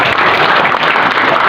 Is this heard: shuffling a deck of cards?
no